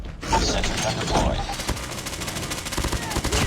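An AS VAL rifle fires rapid automatic bursts in a video game, a dense rattling fusillade with mechanical clicks, loud and close.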